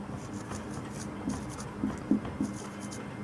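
Chalk writes on a classroom board in a physics class: a quiet series of short scratching and tapping strokes, with a few sharper taps near the end, over a low background.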